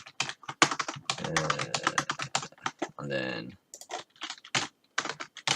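Rapid clattering keystrokes on a computer keyboard, close and dense in quick bursts with short pauses, while someone speaks briefly midway.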